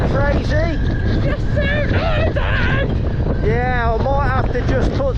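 Seaside wind buffets the microphone with a constant low rumble beneath close, loud voices talking, with boats moving out on the sea nearby.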